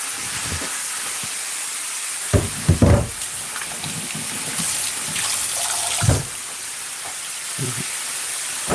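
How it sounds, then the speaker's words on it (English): Tap water runs in a home kitchen sink during hand washing, a steady close hiss broken by splashes and sharper clunks as the hands move under the stream. "I'm gonna wash my hand."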